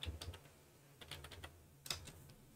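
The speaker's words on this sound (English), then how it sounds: "all I have to do is type in the tools here" A computer keyboard clicks with light typing, a few quick taps near the start and then more scattered keystrokes in small clusters. The sound is close and quiet, with no speech.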